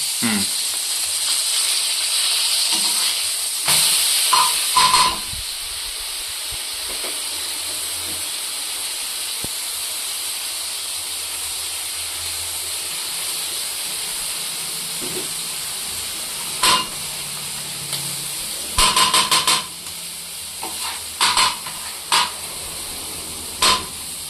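Vorli fish tawa-frying in light oil makes a continuous soft sizzle and hiss, broken by a few louder clattering bursts as the pan is handled, with occasional voices in the background.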